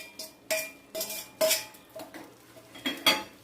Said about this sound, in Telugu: దీన్ని కర్డ్ రైస్లో పోసి కలిపేసేయాలి అంతే.